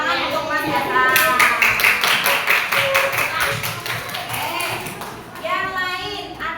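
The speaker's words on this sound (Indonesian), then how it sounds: "Tepuk tangan untuk Mas Hasan" Classroom of children clapping together for a classmate, a quick burst of sharp, rhythmic claps with young voices chattering over and after it.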